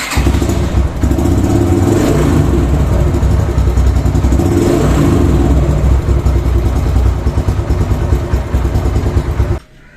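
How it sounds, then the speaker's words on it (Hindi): A motorcycle started by electric self-start on a new maintenance-free gel battery runs loud and close, idling with a steady throbbing rumble and small throttle swells, then cuts off abruptly near the end. "तो ये बाइक हो रही है बिल्कुल डायरेक्ट स्टार्ट, फर्स्ट सेल्फ पे स्टार्ट हो रही है।"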